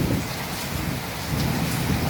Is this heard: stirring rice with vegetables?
no